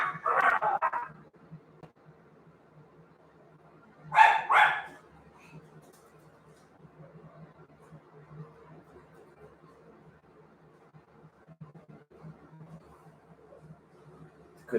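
Dogs bark in a home setting, with two short bursts of barking, one at the start and one a few seconds later, each fairly close and loud, and a quiet hum of room noise in between.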